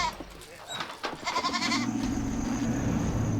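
Goats bleat in a cage set out as bait for lions, the calls clustering into an overlapping commotion amid a steady rumble of wind or ambient noise, with a voice briefly audible.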